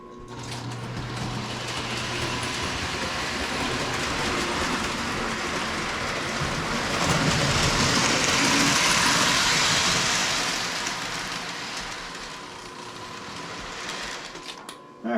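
A Lionel Berkshire model train runs along its track with a steady, loud rumbling whir that swells as it passes close, then eases away.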